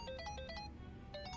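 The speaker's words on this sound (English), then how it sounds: "Your phone's ringing." A mobile phone ringtone in the video game Yakuza: Infinite Wealth chimes in quick repeating electronic bursts, two rapid groups, a pause, then another, played softly and alone without talk.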